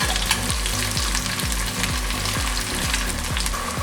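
Shallots, dried chillies and curry leaves fry in oil in a pan with a loud, steady close sizzle and regular stirring strokes repeating about every half second.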